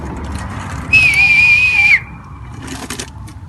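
A loud, steady whistled tone holds for about a second, with faint background noise before and after.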